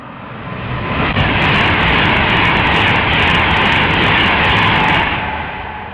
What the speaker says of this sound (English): Another Pendolino is now inbound.